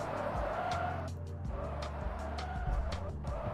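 A car brakes hard with tires squealing, mid-level and steady over an engine hum, heard through a stream.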